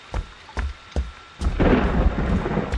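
A thunderstorm in a video game: several sharp thunder claps crack in succession, then heavy rain and rumbling roll in loudly and continuously.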